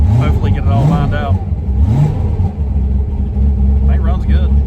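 A race car being readied for a Dig or Die event, running on stock seats with a torn belt remnant, revs its engine in rising and falling bursts close by, loud and continuous, with a person talking over it.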